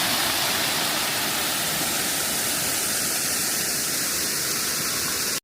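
Water pours steadily over a dam beside a drainage ditch on the Camino de Santiago pilgrimage route in Spain, a loud, continuous rushing roar with no pauses, close and unbroken.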